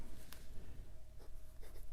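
Fine number 6 steel nib of a Penbbs 499 fountain pen scratching across Clairefontaine 90 gsm paper, close and quiet, with a few brief stroke bursts and soft scraping between them.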